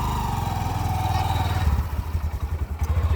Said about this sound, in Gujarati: બાઈક